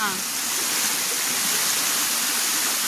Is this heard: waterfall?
yes